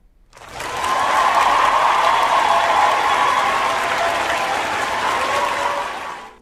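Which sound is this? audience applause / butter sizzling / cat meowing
audience applause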